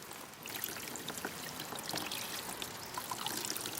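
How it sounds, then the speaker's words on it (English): Water poured onto a freshly potted Hoya praetorii cutting in a gel-like growing medium, a steady soft trickling splash that runs continuously for a few seconds, close and moderately quiet with no talk. "And once again, we're going to water that well."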